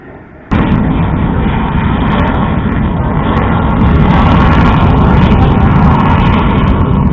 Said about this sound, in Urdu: The Tej is flying in once more to carry out 2 nap rolls.